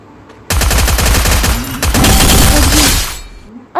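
Assault rifle fire in Free Fire, a long loud burst of rapid automatic shots with a brief pause before a second sustained volley, then a final shot at the end.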